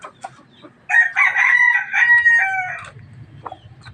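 A labuyo rooster, a Philippine junglefowl, crows once loudly and close by, a drawn-out call with a few soft clucks before and after.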